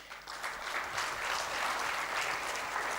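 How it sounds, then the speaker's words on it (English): Sustained applause from a crowd closing an industry-academia conclave in a university hall, thick and steady after a slightly softer start, many hands clapping at once with no voices on top. "With a big round of applause."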